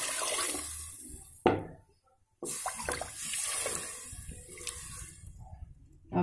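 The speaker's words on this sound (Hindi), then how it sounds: "तो अब मैं इसमें पानी डाल देती हूँ" Water poured from a glass into a pot of rice for pulao, several gushing pours broken by short pauses and a moment of near silence, heard close and alone.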